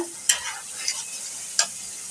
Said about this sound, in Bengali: মশলাটা কষানো হয়ে গেছে, এখন আমি কাঁচামরিচ দিয়ে দিচ্ছি 5-6টা